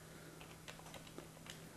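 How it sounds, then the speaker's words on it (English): Someone types on a computer keyboard while setting up a RetroPie PS3 Bluetooth controller, producing quiet, irregular clusters of key clicks against a low background hum. "So I'm just going through and typing all kinds of crazy stuff right now."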